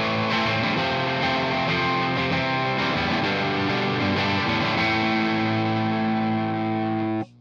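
Electric guitar through a fuzz pedal with its level turned down, giving a thick, sustained, overdrive-like tone as chords ring steadily and loudly before cutting off abruptly at the end.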